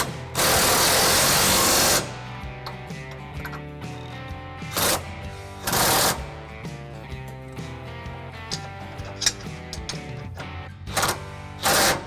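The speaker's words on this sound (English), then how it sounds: "I'll start with the most rear bolts, which again is going to be a 21 millimeter with a 5-inch extension." A ratchet with a 21 mm socket on a 5-inch extension tightens rear trailer hitch bolts on a 2015 Chevy Silverado 1500, giving loud bursts of clicking between pauses over a steady tonal background.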